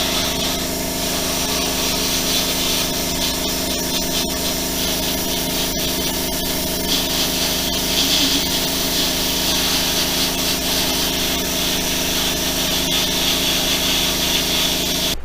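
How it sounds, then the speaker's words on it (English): A shop air compressor runs steadily through a diecast paint and body workshop, a constant loud mechanical drone with a hissing, spray-like wash over it, with no talk. "Set the air compressor over to the side."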